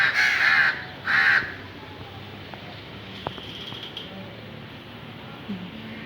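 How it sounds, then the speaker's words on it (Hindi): Two loud, close crow caws ring out on a rainy day, followed by steady rain hiss and a few faint clicks. "कौवा बैठा हुआ।"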